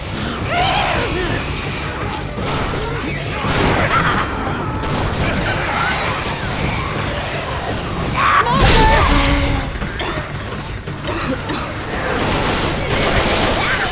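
Gunfire in the zombie shooter game Left 4 Dead 2 crackles in dense, loud bursts through a chaotic battle, with players' voices shouting over it and a heavier blast partway through.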